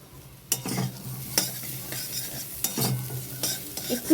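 A spoon stirs spice paste in a pan with a soft sizzle, giving several distinct scraping strokes at irregular intervals, close and clear with no talking.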